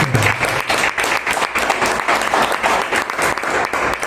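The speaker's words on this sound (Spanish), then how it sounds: "Vamos a darle un aplauso al Señor Jesucristo" A church congregation claps for Jesus Christ during an evening service, producing dense, steady, loud applause that fills the whole stretch without letting up.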